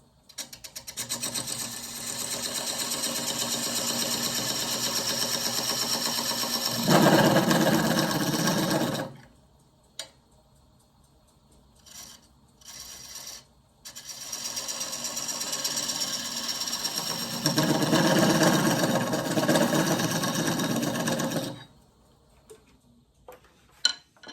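A wood lathe turning an olive burl bowl while a dovetail is cut on the tenon, a loud steady whirring hum with rising scraping cut noise in two long passes, separated by a quiet gap with a few knocks.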